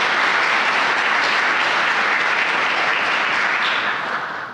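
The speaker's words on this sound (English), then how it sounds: "So how about a round of applause for them?" A large audience at a medical school white coat ceremony applauds faculty and staff, dense sustained clapping that fills the room evenly and fades slightly at the end.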